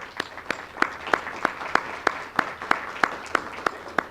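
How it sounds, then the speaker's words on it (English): In a meeting room at a healthcare event, claps land in an even, rhythmic beat about three times a second, each one crisp and distinct above a quiet room. "I want to just applaud everybody in the room."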